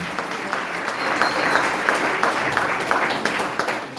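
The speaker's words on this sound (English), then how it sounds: "A round of applause to both the presenters." Audience at a training kickoff event applauding the presenters, a continuous even patter of many hands, moderately loud and unbroken throughout.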